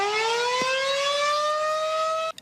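A loud, steady wailing tornado warning siren, set off by mistake in Bolivar, Polk County, holds a slowly rising tone, then cuts off abruptly near the end.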